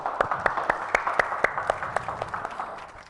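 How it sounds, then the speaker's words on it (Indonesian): Crowd applause after a child's performance at a Ramadan afternoon show, a brisk run of separate claps with a steady patter underneath, fairly close and without voices. "Boleh kasih tepuk tangan yang meriah sekali lagi?"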